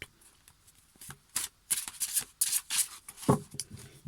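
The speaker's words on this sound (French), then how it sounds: "On va faire la coupe. On va couper." A deck of cards is cut and shuffled close by, producing a run of quick papery riffles and soft flicks with a sharper snap near the end, no talking.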